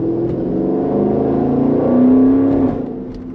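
A 2020 Jeep Grand Cherokee SRT's V8 revs steadily with a low, rumbling growl, swelling louder for a moment before easing back down.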